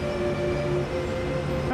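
BR182 electric locomotive in Train Sim World 3 powering up, giving a sustained electrical hum with steady tonal whines that rise into a sweep at the end, even and fairly quiet with no talk.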